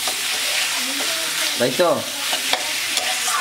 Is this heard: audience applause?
no